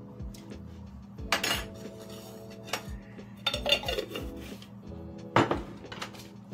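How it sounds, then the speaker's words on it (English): Jerk turkey in a roasting pan being basted with its juices and jerk sauce, heard as scattered metallic clinks, scrapes and knocks of utensils against the pan over a steady low kitchen hum. "And then I'm gonna baste it with all the juice in there."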